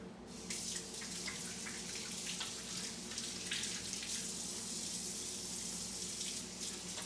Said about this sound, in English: Make sure to keep your hands washed, keep it clean.